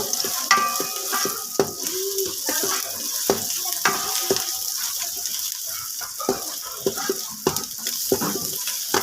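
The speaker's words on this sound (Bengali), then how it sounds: "পেঁয়াজ রসুন আর শুকনো মরিচ প্রায় ভাজা ভাজা হয়ে যাচ্ছে" Onion, garlic and dried chillies fry in oil with a lively crackling sizzle, broken by frequent sharp clicks and scrapes of a stirring spoon close by.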